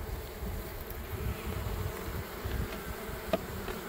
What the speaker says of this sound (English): We've got bees on them.